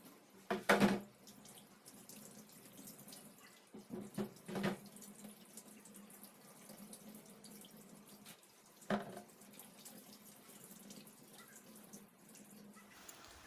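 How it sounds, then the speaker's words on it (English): Faint tap water runs softly in a sink while sweet potatoes are washed, with a few louder splashes and knocks of handling breaking the quiet, steady trickle. "So first of all, I'm going to wash the potatoes thoroughly. Wash them thoroughly before peeling."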